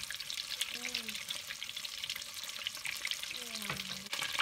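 Scotch eggs made with veal sizzle and fry in a pan, a steady crackling hiss throughout with a few faint tonal clinks and a brief stir near the end.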